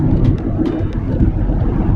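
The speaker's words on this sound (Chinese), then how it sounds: "上freeway了，我们踩一下油门" Ford Mustang Mach-E Select, 2021, accelerating onto a freeway, a steady low road and wind rumble filling the cabin, close and continuous with no distinct engine note and no talk.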